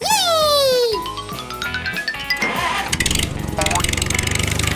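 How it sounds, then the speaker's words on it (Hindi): Tractor engine starting up for a ride on a farm, cranking then catching into a rough steady chug, with a voice heard early on. "Tractor ride."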